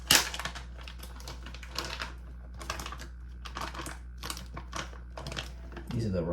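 A small crinkly plastic package holding aquarium plants is handled and crumpled in bursts of crackling rustle, close and fairly quiet, with pauses between handling.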